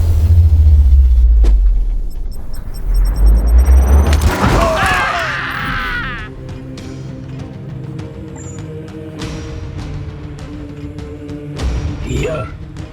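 Game combat in Warhammer 40,000: Chaos Gate - Daemonhunters, with a heavy low boom and a burst of loud explosive crackle around the middle, followed by sparse sharp shots over a droning background and some talk.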